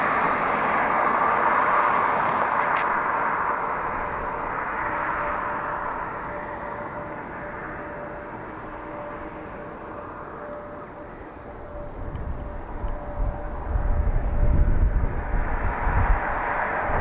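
A jet aircraft at Dublin Airport roars as a broad, steady rumble that fades slightly midway, then swells again with heavier low-end thunder near the end, heard from a distance with no speech.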